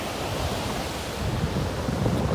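Open sea waves washing beside a sandy spit with rocks and small islands offshore, a steady broad surf rush with wind noise, close and fairly even, swelling slightly toward the end.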